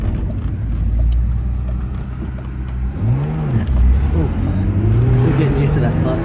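A BMW E36 M3 on a drive, its engine humming steadily from inside the cabin, then rising in pitch as it revs and accelerates through a gear change, with people talking over it.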